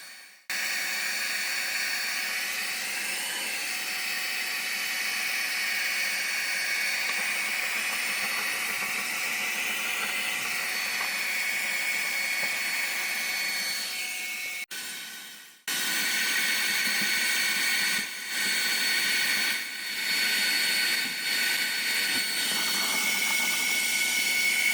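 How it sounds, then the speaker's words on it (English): A hair dryer runs steadily at close range while old caulk is being removed from a kitchen tile backsplash, a continuous loud airy whir that cuts out briefly near the middle and then resumes. "keep your hair dryer going"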